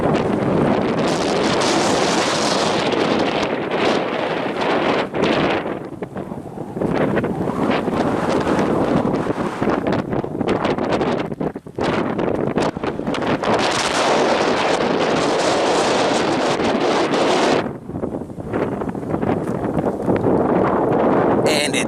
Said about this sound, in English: Today I'm in Norris, Montana, and unfortunately, the beauty is overshadowed by the wind.